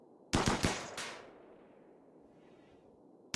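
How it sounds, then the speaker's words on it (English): Gunfire in the colony game RimWorld: a quick burst of four sharp shots within under a second, then a fading tail and quiet. "Good shooting so far."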